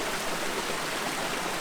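A river flows through a rocky motorcycle trial section, a steady, close rush of water with no talking.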